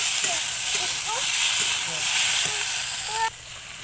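Peas, carrots and chopped tomato sizzle and hiss steadily in a pan as they are stirred, a continuous close frying sound with faint scrapes, dropping quieter near the end.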